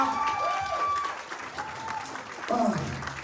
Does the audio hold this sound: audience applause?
yes